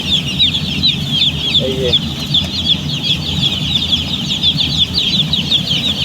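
A group of chickens, newly brought to a farm, cluck and chatter constantly nearby, with short calls layered over a busy rustling background and a brief spoken interjection.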